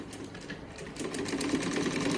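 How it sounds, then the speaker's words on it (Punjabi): A sewing machine runs in a fast, steady mechanical whir with a dense rattle that holds at close range for a couple of seconds, with no speech. "ਸਾਡੀ ਮੰਮੀ ਵੀ ਭਾਈ ਸਲਾਈ ਮਸ਼ੀਨ ਚਲਾ ਲੈਂਦੀ ਹੈ"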